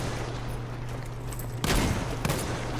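Gunfire in the Battlefield 5 Pacific map between Japanese and USA soldiers: a steady low battle rumble, then a sudden burst of rapid shots followed by another short volley, fairly distant and moderately loud.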